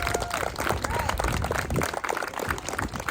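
At a school JOTC battalion change of command ceremony, the audience applauds graduating cadets with brisk, close clapping mixed with crowd murmur and movement.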